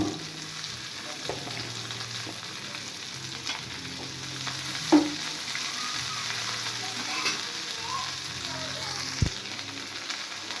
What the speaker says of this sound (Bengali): এখন দিয়ে দিচ্ছি 4-5টা পেঁয়াজ কুচি